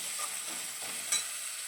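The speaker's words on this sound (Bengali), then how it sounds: "হালকা একটু নেড়ে ছেড়ে নেব।" Ginger paste fries lightly in a pan with a faint, even sizzle and one brief stirring scrape.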